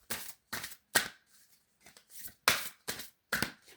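Shamanic oracle cards are shuffled by hand in eight quick riffling bursts spaced about half a second apart, close and crisp, with silent gaps between and no talk.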